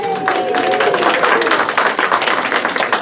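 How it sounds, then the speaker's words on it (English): Crowd applause for a raffle winner, dense steady clapping from an audience lasting throughout, with murmuring voices mixed in. "Give her a round of applause."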